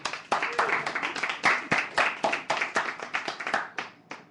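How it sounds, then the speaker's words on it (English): A small audience claps for a poet at an open mic night in a cafe, with several distinct hand claps in an uneven, moderately close rhythm that taper off near the end. "And let's applaud for Shell, please, ladies."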